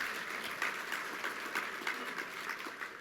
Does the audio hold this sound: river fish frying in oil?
no